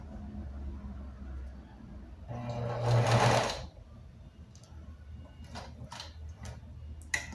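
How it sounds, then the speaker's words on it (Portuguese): A sewing machine stitches capri trousers up to the pocket opening in a single loud, close burst of rapid mechanical whirring. Fainter ticks and clicks from the machine follow in quiet surroundings. "Então agora eu vou costurar até aonde é a abertura do bolso."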